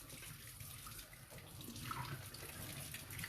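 Water runs steadily from a tap while a paintbrush is rinsed beneath it, a faint, continuous splashing hiss with no voices.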